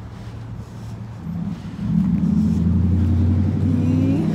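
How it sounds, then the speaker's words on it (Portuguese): A car drives along a city street with new asphalt, its engine rumble swelling as it accelerates past nearby, steady and fairly loud with no talk. "Tanto de carro"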